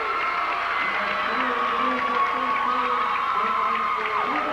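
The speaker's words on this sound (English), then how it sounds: "They have everybody in purple here cheering him, as you can hear in the background, to start the fourth quarter." Crowd dressed in purple cheering at a high school basketball game at the start of the fourth quarter, a steady roar of voices and shouts with a commentator talking over it.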